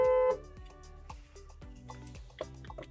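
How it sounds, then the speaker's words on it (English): A loud Volkswagen car horn blares briefly at the start, set off remotely by the Car-Net alarm, followed by quieter clicking and beeping sounds nearby. "it will start flashing and honking the horn"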